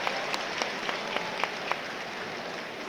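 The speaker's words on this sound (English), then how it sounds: "Yeah, good round of applause for Tommy." Football stadium crowd at Sunderland against Blackburn Rovers applauding a substituted player, a broad sustained roar of clapping with a few sharper claps standing out, heard from a distance.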